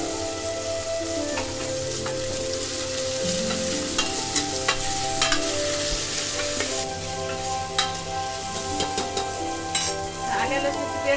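A seeded tomato goes into spices frying in a pan for a village-style jackfruit curry, setting off steady sizzling with spatula stirring and scraping clicks, close and continuous, without talk.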